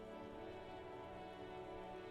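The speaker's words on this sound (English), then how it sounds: "This rain will not let up anytime soon." Steady rain falling in the video game Disco Elysium, a constant even hiss with no talk, heard alone for a couple of seconds.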